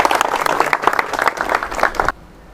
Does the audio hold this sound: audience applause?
yes